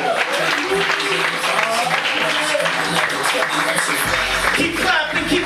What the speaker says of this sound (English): Clap as Glennwood makes his way to the microphone.